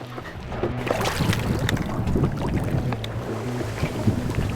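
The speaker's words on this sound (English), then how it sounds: "It's windier than the dang Pacific out there." Strong wind buffeting outdoors at a public-land duck hunting marsh on a windy day, loud and gusty with a constant low rumble across the whole stretch.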